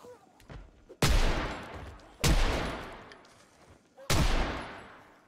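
Gunfire in a co-op Resident Evil 1 session: three loud, widely spaced shots, each a sharp crack followed by a long ringing decay, with quieter game noise between.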